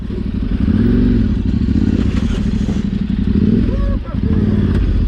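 An adventure motorcycle squeezes through a narrow gap on a rough trail, its engine chugging loud and close with clattering, thumping and scraping, and a voice speaking over it.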